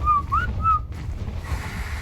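A whistle command in the video game ARK, heard as several short rising and falling whistled tones in quick succession, fairly loud over a low wind-like rumble, then fading into soft ambient noise.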